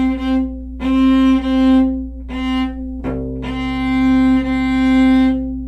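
Sustained bowed violin notes, several long strokes with brief breaks between them, the tone steady and clear with rich overtones, played close and alone.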